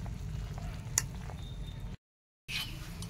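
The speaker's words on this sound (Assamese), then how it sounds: "খুব ধুনীয়াকৈ এয়া উতলি আছে" Soup with chillies and jaluk (black pepper) bubbling at a boil in a pot in a village kitchen, a steady, dense simmering noise close by that drops out completely for a moment before resuming.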